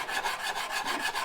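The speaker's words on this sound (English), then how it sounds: "the sanding process will actually take away the last little bits of, the last little bumps of fret wear" Frets on a Fender USA Stratocaster being sanded to remove fret wear; a soft, rhythmic rasping rub repeats in steady back-and-forth strokes, close and alone.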